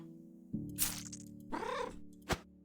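A cat meows in the horror adventure game Servant of the Lake, with one drawn-out, wavering meow standing clearly above a low droning background, framed by soft clicks and a sharp click just after.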